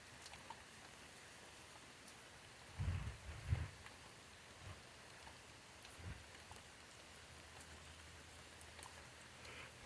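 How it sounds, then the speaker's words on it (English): Rain falling steadily outdoors during a walk, a faint even patter throughout with a couple of brief low thumps from nearby movement, no voices. "it's not raining as hard. It's still raining."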